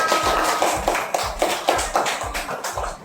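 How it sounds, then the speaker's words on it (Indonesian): A group claps hands together in a classroom coaching session, producing a steady run of roughly rhythmic bursts of applause, fairly close and loud, with no talk over it. "Oke, tepuk tangan semua."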